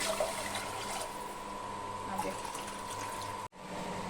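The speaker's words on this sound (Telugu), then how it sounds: "ఫోర్ గ్లాసెస్ వాటర్ వేసుకుంటున్నాను" Water gushes steadily into a pot of rice close by, a continuous pouring rush that cuts off abruptly near the end.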